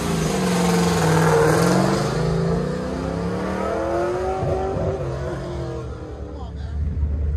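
A Pontiac GTA sports car revs hard through a Goodguys autocross course at Del Mar, its engine rising and falling loudly and continuously, with an announcer speaking over the roar.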